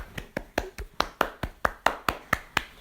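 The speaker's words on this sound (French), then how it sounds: "Donc je peux les applaudir." Hands clapping in applause: about a dozen crisp, evenly spaced claps at a steady quick rhythm, close and fairly loud, with no talk.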